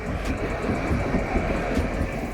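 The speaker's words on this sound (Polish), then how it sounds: "Pierwsza z mostu zjeżdża linia numer 8, Bombardier, względnie nowy tabor." A newer Bombardier tram on line 8 rolls off a bridge in Kraków, a steady close rumble of wheels and rail noise that holds for a couple of seconds with no voices.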